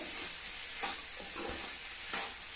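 Vegetable mezhukkupuratti of potato, raw plantain and softened onion being stirred in an uncovered pan, with a steady soft sizzle and several rhythmic scraping strokes of the spoon.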